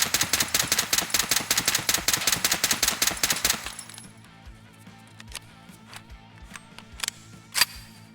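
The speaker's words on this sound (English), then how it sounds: "show you guys what that's looking like on single fire" Rapid semi-automatic shots from an MPX gun in a video game, a fast dense string of sharp cracks for about four seconds, then quieter ambient game sounds with a few faint clicks and one louder pop.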